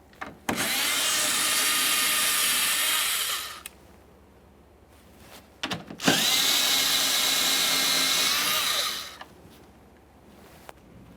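A power driver spins out two 7mm mounting bolts from a 2015-2020 Ford F-150 front bumper bracket, two loud, close whirring runs of about three seconds each separated by a short pause, with a few clicks around them.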